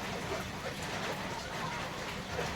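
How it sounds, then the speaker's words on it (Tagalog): Steady rain falls in a wet rural yard, a continuous even hiss of drops holding at a constant level for the whole stretch with no talk over it. "Sana naman huminto yung ulan."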